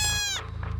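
A herd of about 150 goats rescued near an erupting volcano in Spain, heard as a close, high harmonic bleat that fades into softer overlapping calls over a steady low hum.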